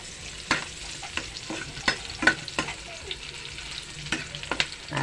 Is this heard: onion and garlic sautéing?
yes